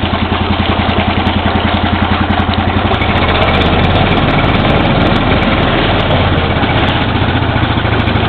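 A 2003 Briggs & Stratton 5 HP outboard motor idles in water, its steady low engine drone running loud and continuous throughout with a slight shift in tone partway through.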